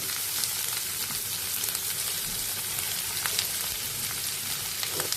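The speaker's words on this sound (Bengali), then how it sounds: "পেঁয়াজ দিয়ে দিচ্ছি।" Onions frying in hot oil for a homemade Chinese dinner produce a dense, loud, crackling sizzle that holds steady throughout, with no talking.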